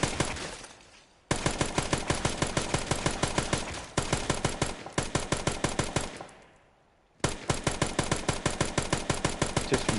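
SMG fire in the original 2006 Dead Rising video game, long rapid-fire bursts of loud, evenly spaced shots broken by short pauses, with no talking.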